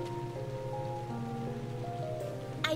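Steady rain patters in Trails of Cold Steel beneath soft sustained music, continuous and moderately quiet.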